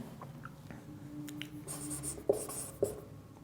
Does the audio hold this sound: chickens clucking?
no